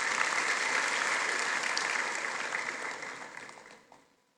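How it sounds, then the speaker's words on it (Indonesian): A large audience claps steadily at a ceremony installing 430 graduates as professional social workers; the dense applause holds for a few seconds and then fades away to silence. "Tepuk tangan untuk kita semua."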